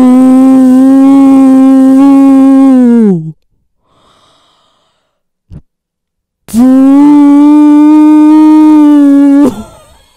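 A voice imitating a hair dryer with a long, steady buzzing drone for about three seconds. After a pause broken by a faint breath and a click, a second drone of similar length and loudness follows.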